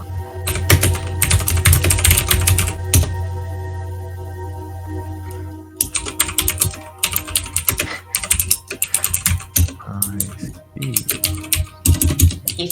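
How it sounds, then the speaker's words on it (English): Furious typing on a computer keyboard, a dense fast clatter of keystrokes in bursts with a short pause midway, close and loud, with a steady low hum under it. "He's typing furiously."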